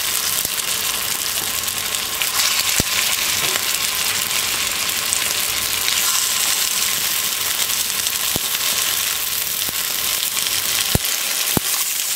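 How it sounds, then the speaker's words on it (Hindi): Aloo tikki patties frying in a pan of hot oil give a steady, close sizzle that holds through the clip, with a few sharp clicks and no voices. "अब एक एक करके हमारी टिकिया रख देंगे पैन के अंदर"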